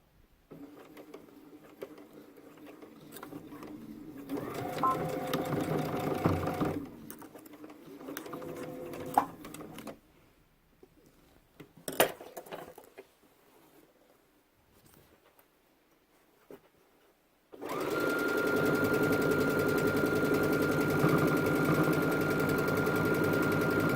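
A sewing machine stitches a zipper onto a backpack in short bursts with pauses and handling clicks, then one long, steady, close run of stitching.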